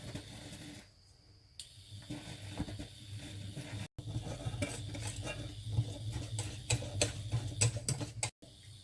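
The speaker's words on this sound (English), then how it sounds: "Now it's time to add the milk chocolate and mix." Milk chocolate being mixed into thickened cream in a pot, a utensil ticking and scraping against the pot in quick irregular strokes, close and quiet over a low hum.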